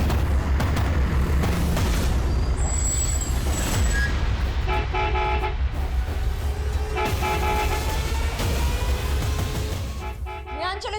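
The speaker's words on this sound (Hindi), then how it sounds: "बार बार हॉर्न मार रहा है" A school bus horn honks in repeated toots under a loud rumbling engine and street noise, with people talking over it.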